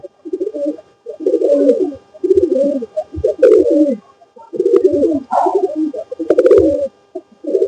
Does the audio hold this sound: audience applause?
no